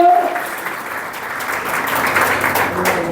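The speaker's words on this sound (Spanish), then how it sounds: "Dale un aplauso al Señor." A church congregation applauds loudly, a dense, continuous roar of clapping that swells slightly as it goes, with a voice briefly audible at the start.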